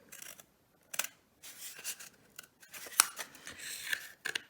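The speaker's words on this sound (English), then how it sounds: "So I take my scissors and just cut along that line there" Scissors snip through paper along a line in a series of short, close cuts separated by quiet pauses, with no talking.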